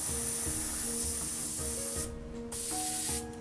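Airbrush spraying light coats of paint onto a 1/48 scale Fujimi Mitsubishi A6M2 model aircraft, a steady close hiss that briefly cuts out and resumes, with a faint tonal hum underneath.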